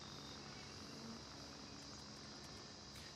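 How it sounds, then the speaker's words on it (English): A helicopter in the video game Gray Zone Warfare approaches as a steady, broadband rotor and engine roar that holds at a constant level throughout, fairly distant and without talk over it. "I hear a helicopter coming in."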